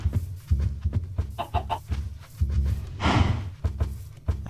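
Chickens cluck in a farming video game, a run of short, close, repeated clucks and squawks in an uneven rhythm with a brief noisy burst partway through.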